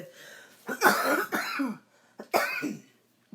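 A few sharp, close coughs in quick bursts, with a short pause between two groups, without talking.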